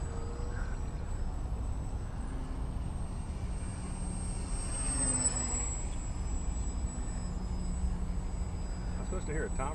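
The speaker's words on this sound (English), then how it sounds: "This is such a fun airplane, dude." A small fixed-wing airplane flies over a construction site, its engine a steady, moderately distant drone with a faint rising and fading whine as it passes, and no talk over it.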